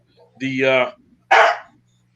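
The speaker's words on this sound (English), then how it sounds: "Someone shoot that dog!" A dog gives two loud, close barks with a short gap between them, the first drawn out and tonal, the second sharper, with a faint steady hum underneath and no talk.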